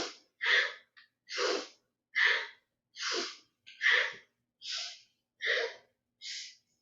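Deep, slow yoga breaths during a fusion yoga class, about nine even inhale-exhale cycles in a steady rhythm, close and clear with silence between breaths.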